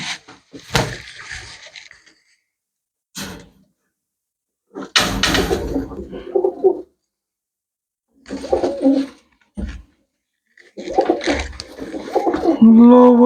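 Pure-bred pigeons, red and black-tipped birds among them, coo and scuffle in short bursts separated by silent gaps, with a low, drawn-out coo near the end and a few knocks mixed in.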